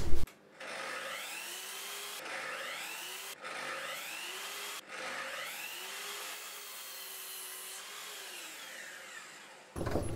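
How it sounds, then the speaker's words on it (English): Saw ripping scrap softwood pieces into wall standoff supports, a loud steady cutting roar broken by brief pauses between passes, heard alone with no talk. "I'm going to start by ripping down some scrap pieces of softwood"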